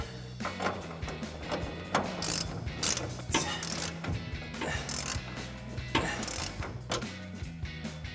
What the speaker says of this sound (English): we are going to switch out for a 21 mil socket on our ratchet